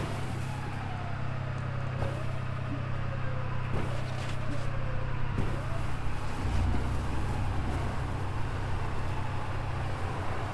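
A truck stuck in deep snow spins its wheels, giving a continuous engine drone with rising and falling whining tones. It is loud and steady throughout, with no clear talk.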